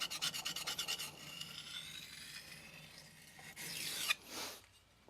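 A knife with a slight belly at the tip rocked across a resin-bonded diamond sharpening stone, producing quiet rhythmic rasping strokes at first, then slower, softer scrapes with a couple of brighter swipes near the end.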